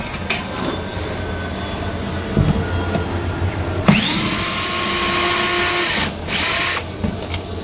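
A power drill or impact driver zips out a bolt from a school bus seat during a skoolie conversion, with short bursts followed by a long, loud sustained whine that cuts off and briefly returns, close up with no talking.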